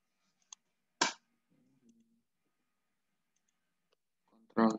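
Computer keyboard pressed for a Ctrl+C copy shortcut gives a soft tap and then one sharp, close click in a quiet room, with a faint low hum and a brief burst of voice at the end.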